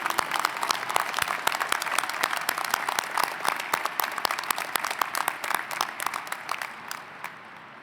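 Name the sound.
applause at commencement ceremony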